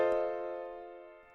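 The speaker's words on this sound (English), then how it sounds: "an F dominant 7th chord would look and sound like this." An F dominant 7th chord sounds once, a clear sustained tonal chord with a quick attack that slowly fades over about a second, alone and quiet.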